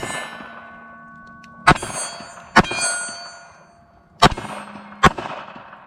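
A Taurus PT738 TCP .380 pistol fired outdoors in two quick pairs of sharp, loud cracks, each followed by a brief ringing tail and a short pause between pairs.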